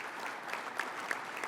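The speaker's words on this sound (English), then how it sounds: "So give yourself another round of applause for that." Brief applause from union members at a regional council meeting, a steady mid-level patter of clapping with a few sharper individual claps standing out.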